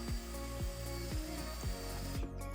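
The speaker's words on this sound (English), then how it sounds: "I'm taking my drill to just drill some holes where the screws are going to go." A power drill whines steadily while drilling screw holes into the wood of a vintage nightstand, its motor pitch sagging in regular pulses about twice a second as it bites in, close by and alone.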